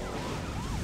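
A police car siren in the Midtown Madness driving game wails briefly and steadily in the background, a short rising and falling tone over a dense, busy game mix of engine and traffic noise.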